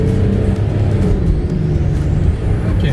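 A 2007 Audi Q7 3.0 TDI Quattro diesel pulling hard at full throttle from 20 mph, with a dense, steady low engine roar and rising drone heard from inside the cabin.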